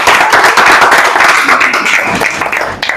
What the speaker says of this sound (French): On peut applaudir encore.